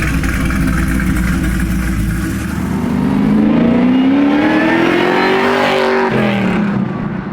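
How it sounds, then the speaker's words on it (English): A supercharged LS9 ZR1 V8 with ported heads, ported supercharger and a cam, fitted in a pro touring Camaro convertible, revs loudly and close, its pitch climbing in one long rising pull before dropping off. "LS9 supercharged ZR1 motor. Which is an intense motor."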